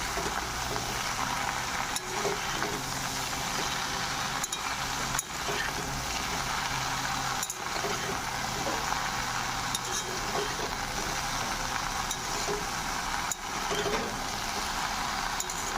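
Okra and potato curry with turmeric being stirred in a pan, a steady hiss of frying with scraping and clicking strokes at irregular intervals, moderately loud and continuous.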